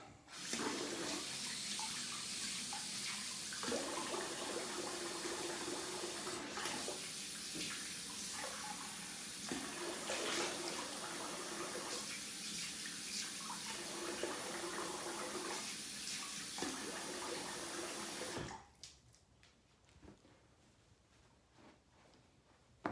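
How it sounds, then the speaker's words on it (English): Tap water runs steadily and close by for about eighteen seconds as a face is rinsed after a shave with a Rockwell 6S safety razor, then cuts off, leaving a quiet room. "I rinse the face."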